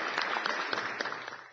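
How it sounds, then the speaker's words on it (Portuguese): Brief applause from the audience at a Brazilian physics tournament fight, a short burst of clapping that is fairly faint and distant, tapering off quickly. "Uma salva de palmas a todos."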